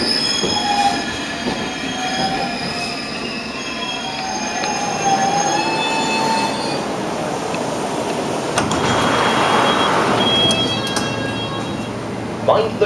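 A London Underground train running through a tunnel, loud and close, with sustained metallic wheel squeals and whines over a steady rumbling roar that swells in the latter half.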